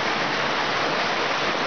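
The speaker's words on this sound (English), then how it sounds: "It's just a waterfall. This thing is beautiful." A waterfall at a campsite near Clingmans Dome in the Smoky Mountains pours in a continuous, dense rushing roar, steady and fairly close, with no voices.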